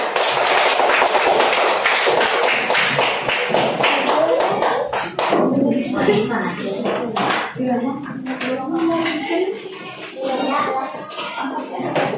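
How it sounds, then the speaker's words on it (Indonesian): A group of people in a classroom claps loudly for several seconds, with sharp individual hand strikes that thin into scattered, uneven claps. Children's chatter follows over the last of the clapping. "Kita beri tepuk tangan"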